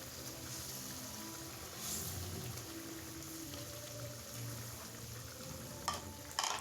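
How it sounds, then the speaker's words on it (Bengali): Fish pieces dropped one at a time into a boiling mustard gravy for a Bengali parshe fish tel jhal, a steady low bubbling simmer with soft sizzle and a few sharp clinks near the end. "আমার গ্রেভিটা ফুটে গেছে। এবার একটা একটা করে মাছ আমি দিয়ে দিলাম।"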